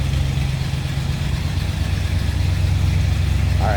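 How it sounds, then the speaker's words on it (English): A 1984 Chevrolet K10 Scottsdale pickup with a 305 V8 and Edelbrock four-barrel carburetor idles close by, giving a steady, even low rumble throughout. "Edelbrock 4-barrel on it. Nice little rumble."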